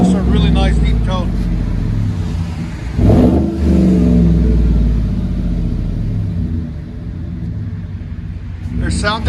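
A Chevy Silverado with the 5.3L V8 and a Flow FX high-flow catalytic converter revs up with a deep, throaty exhaust rumble, swelling once midway before settling back to a steady idle-like drone, recorded close outdoors in snow.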